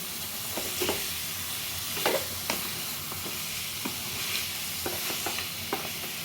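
Crab masala fries in a pan with half a teaspoon of ghee added, giving a continuous sizzle broken by several scraping stirs of the spatula against the pan, with no talking.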